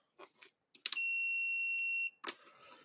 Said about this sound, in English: That darn beeping thing.